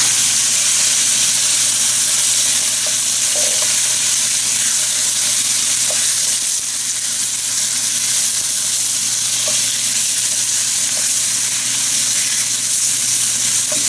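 Thin pork slices fry in about three tablespoons of hot oil in a hot pan, giving a loud, steady sizzle with faint pops and crackles, and no talking.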